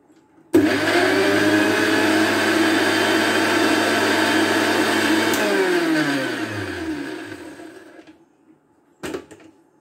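An electric blender making watermelon juice whirs loudly and steadily for about eight seconds, then winds down and stops, followed by a short clatter, with no talking.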